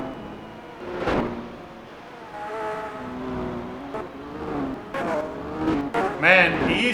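An overpowered race car in Gran Turismo 4 revs through gear changes, its engine whining and climbing in pitch with brief tire squeals, heard steadily under background game audio.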